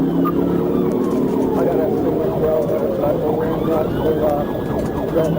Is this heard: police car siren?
yes